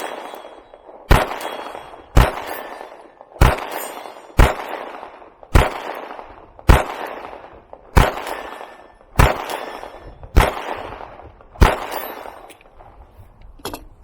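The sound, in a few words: CZ P10c pistol shots fired at a target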